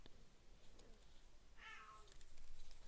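A house cat, just woken up, gives a single short, faint meow from some distance over steady background hiss.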